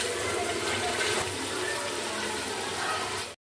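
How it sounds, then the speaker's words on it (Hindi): Water is poured into a hot pan of frying potatoes for a village-style mixed saag dish, raising a loud, steady, close hiss that runs evenly before cutting off abruptly. "अब इसमें हम थोड़ा सा पानी डाल के आलू को पकने देंगे।"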